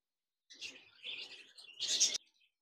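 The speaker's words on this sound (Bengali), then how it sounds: "একজোড়া জাপানিজ বাজরিকার রয়েছে" A pair of large Japanese budgerigars give short, bright chirps and chatter in three quick bursts, close and clear against silence.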